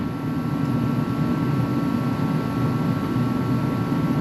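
A 1964 Correct Craft American Skier boat engine running at half throttle, a steady loud droning rumble with a constant low hum and no change in pitch, heard alone.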